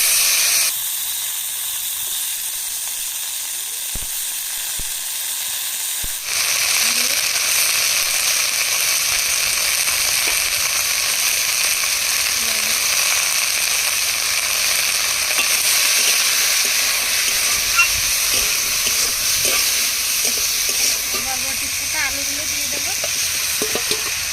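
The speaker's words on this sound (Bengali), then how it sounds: "তেলের মধ্যে দু পিস শুকনো লঙ্কা কালো জিরা ফোড়ন দিয়ে দেবো এবার কাঁচা লঙ্কা দিয়ে দেবো বরবটি দিয়ে" Dried chillies, black cumin, green chillies and yardlong beans fry in hot oil, a loud steady sizzle that swells sharply after a few seconds and keeps hissing with small crackles and stirring taps, close up.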